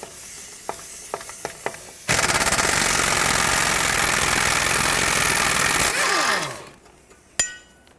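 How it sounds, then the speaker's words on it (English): An impact gun works on frozen front strut bolts of a 2007-2010 Chrysler Sebring: a few light clicks, then a loud, close, sustained rattling burst of about four seconds that winds down, followed by a sharp knock. "So I'm going to try to break these free with my impact gun first."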